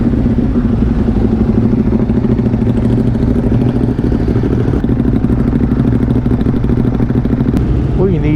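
Several Ducati motorcycles, Hypermotards among them, idle and rumble together at a Sunday meet-up, a steady dense mid-range engine drone with mechanical clatter, close and loud throughout with people talking amid it.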